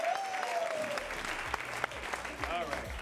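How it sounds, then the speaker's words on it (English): Audience applause welcoming an improv comedy cast to the stage, a steady spread of clapping heard fairly quietly, with voices and a few sharper claps and knocks breaking through. "Give them a round of applause."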